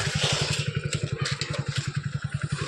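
A motorcycle engine idles close by with a steady, rapid thudding putter, its even pulse running throughout with a rattly clatter on top.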